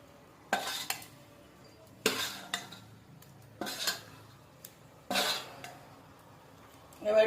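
Fish pieces going into a pan of simmering gravy for a Bengali fish curry, with several separate bursts of clatter and spoon scraping spread across the clip, close and fairly quiet, no talking.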